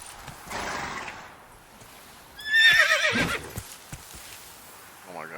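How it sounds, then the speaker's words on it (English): A horse in The Witcher 3: Blood and Wine neighs midway through, a loud whinny that rises and then falls away, with hoof clip-clop and a quiet game ambience around it. "Whoa there, Roach"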